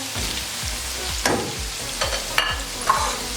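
Chicken for jalfrezi fries in a pan with a steady sizzle while a spoon scrapes and stirs in regular rhythmic strokes, with a few sharper clinks, no voices.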